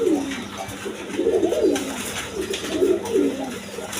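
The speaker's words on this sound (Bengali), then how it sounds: "দেখেন আমেরিকান লক্ষা কবুতর" American Lakkha pigeons coo close by in soft, rolling, repeated phrases, a few low throaty calls following one another over faint background noise.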